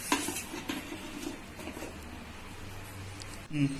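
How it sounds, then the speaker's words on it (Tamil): Metal idli plate set down into an idli steamer pot, with soft scraping and clattering of metal at the start and a sharper clink near the end, quiet and close. "இட்லி தட்டை எடுத்து நம்ம உள்ளே வைக்க போகிறோம்"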